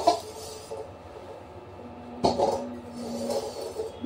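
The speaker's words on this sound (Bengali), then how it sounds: "দেখো এবারে কড়ায় আলু তুলছে আমার মানু।" Potatoes tumbling into a wok, with a sharp clattering clink near the middle followed by softer scraping and rattling of the pan; no voices.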